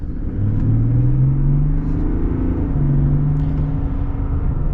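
A 2023 Chevy Silverado 1500 High Country with the LZ0 Duramax diesel accelerates at partial throttle, a loud, steady engine rumble with a drone that climbs in pitch, dips, then rises again.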